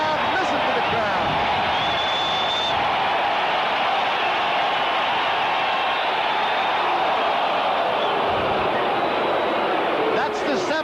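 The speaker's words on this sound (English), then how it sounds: "Look at the crowd. Listen to the crowd." A baseball stadium crowd at Game 3 of the 1978 World Series, Los Angeles at New York, makes a dense, loud, sustained roar that fills the whole clip. An announcer's voice runs over it.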